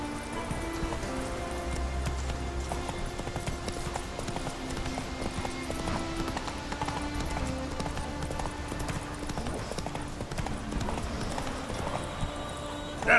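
Roach the horse gallops in The Witcher 3 with a steady, rhythmic clip-clop of hooves that runs the whole time over a musical score, with occasional faint voices.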